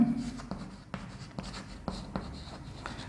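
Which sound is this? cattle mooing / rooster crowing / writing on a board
writing on a board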